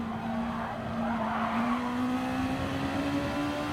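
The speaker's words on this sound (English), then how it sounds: "As he spins right behind us and another car spins" Gran Turismo Sport Gr.2 race cars spinning out at the Red Bull Ring, with a steady engine drone and a rising, sustained tire squeal running loud throughout.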